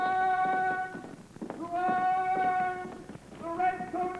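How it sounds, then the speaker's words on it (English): A galloping horse in a radio drama set at the start of the American Revolution: repeated hoof thuds mixed with bright, whinny-like tonal cries, rising and falling in bursts, fairly close and prominent. "A galloping horse."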